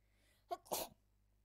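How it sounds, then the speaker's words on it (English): A single sudden human sneeze, close and fairly quiet, with a short intake followed by a sharp burst, alone in an otherwise quiet room. "I sneezed."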